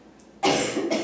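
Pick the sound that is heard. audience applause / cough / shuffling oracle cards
cough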